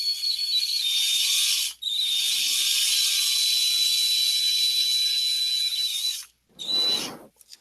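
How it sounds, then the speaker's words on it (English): A small hand drill bores a pinning hole into a Guild Ball miniature, a continuous high, scratchy grinding lasting several seconds with a brief pause, then a short final burst, close and fairly loud. "See if I can do this without drilling all the way through."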